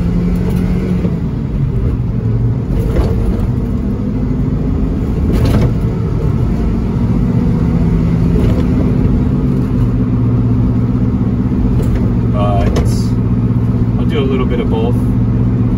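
A kei truck's engine rumbles low and constant while driving, with road noise and a few faint rattles and clicks from inside the cab; valve cover gasket recently replaced.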